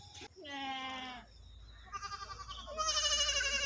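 Goats bleat close by, a couple of long wavering cries followed by a string of quicker, tremulous bleats, loud against a quiet outdoor background.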